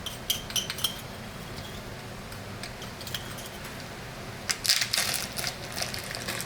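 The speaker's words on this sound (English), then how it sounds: "So here is 1/4 of a teaspoon, and I'm just gonna measure out right here." Metal measuring spoons clink and jangle while a quarter teaspoon is measured out, with a few light taps early and a brighter cluster of rattling near the end over a quiet background.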